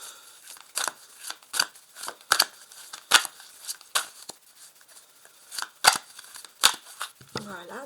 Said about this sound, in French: Le tarot de Marseille, je vais faire une découpe